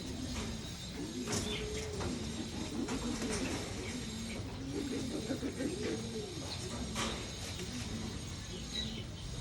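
Japanese-line racing pigeons coo in repeated rolling phrases from a nearby loft, with soft background clatter and no talk.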